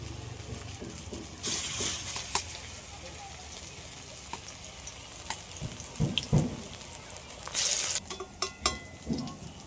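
Prawn and lentil fritters (bora) frying in oil: a low background hiss with two brief, louder bursts of sizzling, plus scattered clinks and a voice talking softly.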